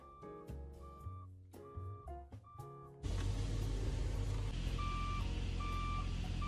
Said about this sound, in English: put one of the alarm things that go off whenever a big truck is backing up, and he attached it to my brakes